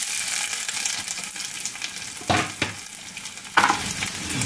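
Onions fry in a pan for aloo methi curry, giving a continuous close sizzle broken by a few louder scraping stirs.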